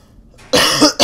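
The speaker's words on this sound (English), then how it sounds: "Sorry about that cough as well." A close, harsh cough bursts out after a moment of quiet, followed quickly by a second shorter cough.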